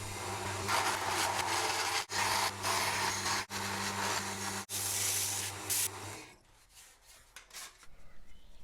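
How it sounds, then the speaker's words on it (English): A wood lathe turns wooden tool handle blanks with a loud, steady whirring hum and scraping that dips briefly a few times, then the motor winds down and the shop goes quiet. "then I'll turn them down on the lathe."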